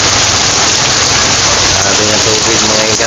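Heavy, nonstop rain pours down in a dense, loud hiss that does not let up, with floodwater rushing and a voice talking faintly underneath.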